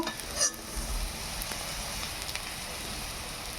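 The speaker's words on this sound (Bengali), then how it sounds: "সজনে ডাঁটাগুলো ভালোভাবে ভেজে নেব" Moringa drumsticks frying in a pan give a steady, close, rain-like sizzle, with a brief louder clatter near the start and then an even hiss throughout.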